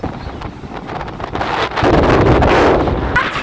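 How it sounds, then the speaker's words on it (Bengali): Sea wind at Bakkhali beach buffets the microphone in a loud, rough roar that swells halfway through and stays strong. "হাওয়া"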